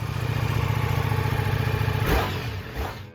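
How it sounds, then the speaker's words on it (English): A Ducati Multistrada V4 motorcycle engine runs steadily with a low, throbbing rumble, then revs briefly near the end, close and fairly loud with no talk. "Number 1, Ducati Multistrada V4."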